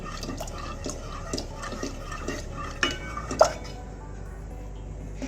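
Agar agar powder mixture being stirred in a pot, with soft repeated scrapes and light metallic clinks of a spoon against the pot, fairly close and quiet, no talking.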